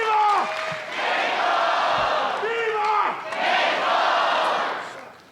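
Pro wrestling crowd at a GHC Heavyweight Championship match roaring and chanting in rhythmic waves, loud and full, with a commentator's voice briefly over the noise.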